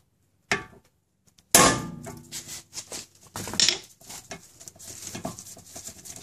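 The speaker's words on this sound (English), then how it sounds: "Make sure it's embedded all the way and give it a good whack." A hammer gives a sharp metallic whack to a tool set in a screw head on a Honda Accord rear brake, followed by clinks and scraping of tools and parts, with no talking.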